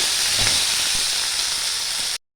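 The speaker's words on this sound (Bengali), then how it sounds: "দিয়ে দেবো টমেটো কুচি একটা, এটাকে হালকা আমি ভেজে নেব।" Chopped tomato fries in a hot pan for a fish roe and potato curry, giving a loud, steady, close sizzle and hiss that cuts off abruptly.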